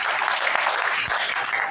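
A church congregation claps together in a brief, steady burst of applause during worship, dense and continuous throughout.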